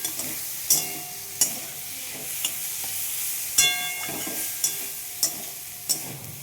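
Green chilies stir in a kadai for prawn bhapa, close scraping strokes of a spatula sounding at a regular pace over a soft, steady sizzle of oil.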